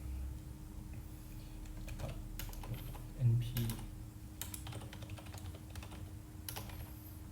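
Python code being typed on a computer keyboard, producing rapid, uneven clusters of close key clicks with quiet pauses, while a voice speaks intermittently.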